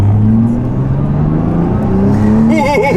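A 2020 Nissan GT-R Nismo, a 600 PS car, revs hard from inside the cabin, its engine note climbing steadily and loud throughout before rising sharply in a final burst.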